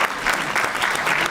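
Applause breaks out for the honorees at a school board recognition meeting, a short, full burst of crowd clapping that stays steady from start to finish.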